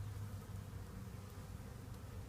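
Bee swarm in a Denver backyard, a dense steady low buzzing hum from many bees, close and continuous, with no voices.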